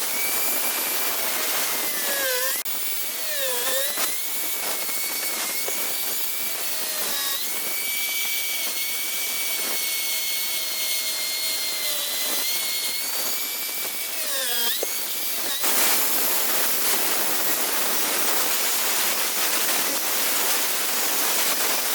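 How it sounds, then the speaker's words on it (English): A diamond-edged tile saw blade slices along a marked line in a fiberglass boat floor, giving a steady, loud, close whining grind for the full stretch, pitch dipping briefly as the blade bites harder. "Now I can come back with my diamond blade and I can cut this line that I drew"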